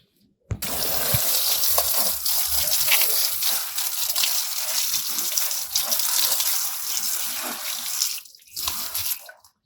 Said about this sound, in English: I'm just going to wash them off a bit because I don't want to carry the dirt inside the kitchen